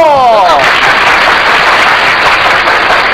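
A studio audience claps loudly to welcome a guest, Shoko Asahara, on a Japanese talk show: a dense, constant wash of clapping, opened by a falling tonal sweep.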